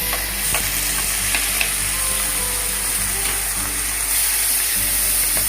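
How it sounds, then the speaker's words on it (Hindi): Chopped onion frying in a pan for chicken yakhni pulao, a steady close sizzle and crackle with occasional scraping from stirring, no talk. "इस टाइम पे मैं इसमें मेरा जो कटा हुआ प्याज है वो डाल दूंगी।"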